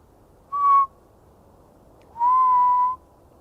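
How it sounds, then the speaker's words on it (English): Two clear whistled tones from a person in a forest at night: a short whistle followed after a pause by a longer, steady one, alone against faint background hiss. "trying to whistle to get them all riled up"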